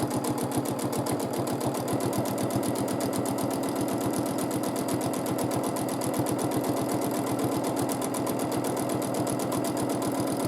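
A domestic sewing machine stitches steadily for free-motion quilting on a rail fence baby quilt. Its rapid, even mechanical chatter stays close and constant throughout, with no talk over it.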